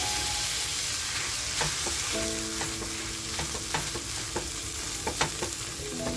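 Pav turned through sizzling mutton keema in a pan: a continuous frying hiss with scattered scraping and stirring clicks, close and fairly loud, with no voices.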